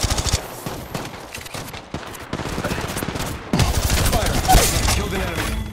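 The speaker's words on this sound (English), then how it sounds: "They're shooting at me." Rapid automatic gunfire rattles in Apex Legends Mobile, dense bursts of shots stacking close together with heavy continuous firing near the end.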